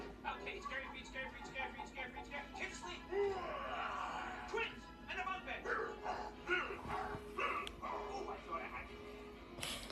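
A puppy gives several small barks and yips over steady indoor background noise, with people talking nearby.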